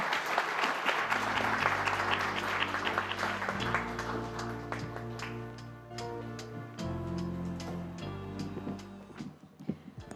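Audience applause follows a speech at an India–Japan business conclave: sustained, dense clapping runs throughout, layered over steady musical tones in the background, with scattered individual claps growing more distinct toward the end.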